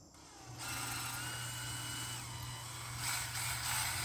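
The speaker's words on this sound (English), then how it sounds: "we're drilling out the holes to fit the screws" A power drill drilling out screw holes on a camper exterior whirs steadily with a mechanical hum and faint ratcheting, continuous throughout at close range, no voices.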